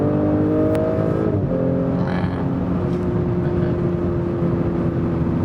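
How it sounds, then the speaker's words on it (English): An Audi S4 V6 sedan pulls hard under acceleration, its engine droning loud and steady from inside the cabin as the pitch climbs, shifts, and climbs again, with road and wind roar underneath. "So we can probably have one more acceleration here."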